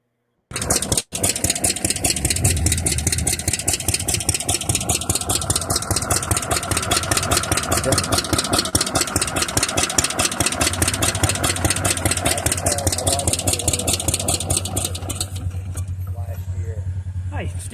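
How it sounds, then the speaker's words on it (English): Rear-engine 1966 Arctic Cat snowmobile running at a vintage show, its small two-stroke engine firing in a rapid, loud, uneven putter that starts abruptly and settles into idle, with people talking over it. "it's a 1966 Arctic cat with a rear engine"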